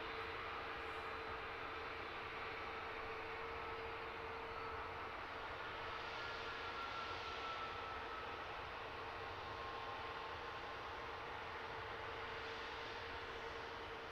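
An aircraft departing London Luton Airport, a faint, distant, steady engine rumble and hiss with a constant whine, heard alone throughout.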